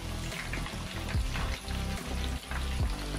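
Tilapia fish frying in oil in a pan, a continuous crackling sizzle with popping spatter throughout, close and steady, with no talk.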